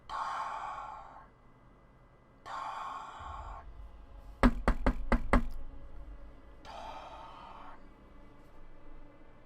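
Five sharp, evenly spaced knocks sound from below deck on a boat, a loud rapid series set between slow, heavy breaths or sighs, with a low rumble underneath.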